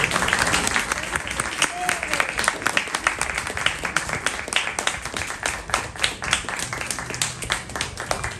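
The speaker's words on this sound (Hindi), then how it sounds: "A big round of applause for the children." Audience applause following a children's theatre performance, steady dense clapping sustained throughout with a crowd murmur and a voice speaking over it.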